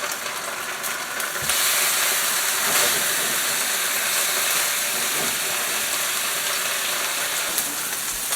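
New York strip steak searing in a hot pan, a loud continuous sizzle and hiss that swells after the first second or so and holds steady and close throughout.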